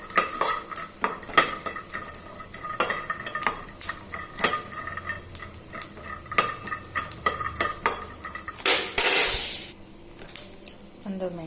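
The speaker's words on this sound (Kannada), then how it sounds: "ನಮಗೆ ಜಾಸ್ತಿ ಟೇಸ್ಟ್ ಬೇಕಂದರೆ ಜಾಸ್ತಿ ಕಡಲೆ ಬೀಜ ಹಾಕ್ಕೊಬೋದು. ಇದು ಸ್ವಲ್ಪ ಫ್ರೈ ಆಗಬೇಕು." Peanuts frying in a pan for a dosa chutney while being stirred: repeated metallic scrapes and clinks of a utensil against the pan over a steady background hiss, with a burst of sizzling near the end.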